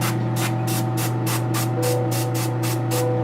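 Airbrush spraying paint in quick rhythmic pulses, about a dozen short hissing bursts over a steady low hum.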